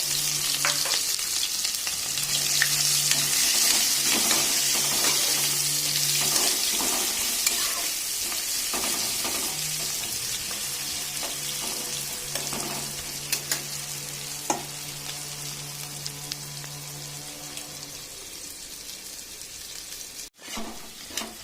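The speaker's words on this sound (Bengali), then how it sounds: "পেঁয়াজগুলো ভালো মতন ভাজা হয়ে গেছে" Chopped onions fry with whole cumin in hot mustard oil, a continuous bright sizzle with scattered spatula scrapes and taps, and a brief dropout near the end.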